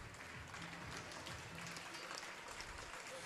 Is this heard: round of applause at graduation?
yes